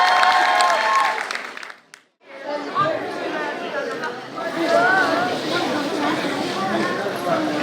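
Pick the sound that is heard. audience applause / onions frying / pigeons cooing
audience applause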